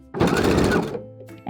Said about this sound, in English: make sure you go over it a couple stitches and then back stitch